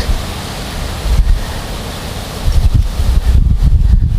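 Outdoor wind buffets a microphone beside a small bushcraft box stove, a loud rushing roar that swells in gusts, strongest near the end, with no voices.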